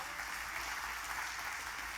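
A church congregation applauds in praise during a Spanish-language sermon, a steady, dense wash of many hands clapping at low, even volume throughout.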